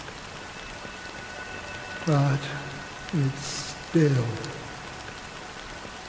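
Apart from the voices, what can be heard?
rain falling in the video game Honkai Star Rail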